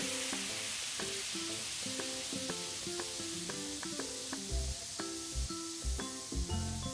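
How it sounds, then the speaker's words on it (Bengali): Pointed gourd (potol) pieces fry in oil in a home kitchen, a steady soft hiss and crackle running under background music throughout. "এরপর পটলগুলো আগে ভেজে তুলে নেব।"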